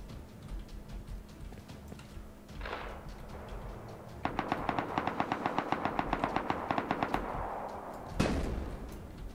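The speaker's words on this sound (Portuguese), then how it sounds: "Esse tiro que você tá, essa rajada que tá saindo ali" Automatic gunfire in the video game Rust: a rapid burst of about a dozen loud, evenly spaced shots, followed shortly after by a single sharp crack over steady background ambience.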